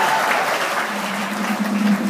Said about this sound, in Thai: ขอเสียงปรบมือดังๆให้กับปอมปอม